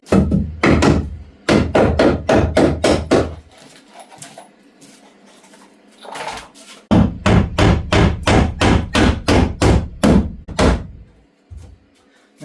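A heavy hammer is used during a cottage renovation, landing sharp blows close by in rapid bursts of repeated strikes separated by short pauses with quieter scraping and shuffling.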